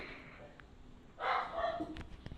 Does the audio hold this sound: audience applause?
no